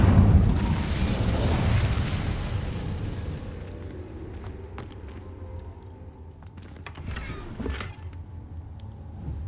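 Incendio fire spell in Hogwarts Legacy: a loud whooshing burst of flame at the start that decays into a low rumble, followed by scattered smaller crackles and pops.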